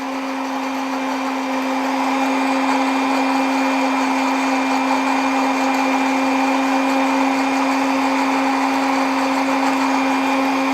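An electric blender grinds garlic with grapes and honey into a fine herbal paste, running as a loud, continuous motor whine with a steady high hum that never changes pitch and no speech over it.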